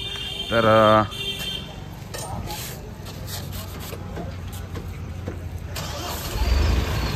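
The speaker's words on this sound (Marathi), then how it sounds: "बसताय गाडी चालू करायला" A car engine starts with a brief, loud tonal whine of the starter near the beginning, then settles into a steady low rumble that runs throughout, with voices nearby.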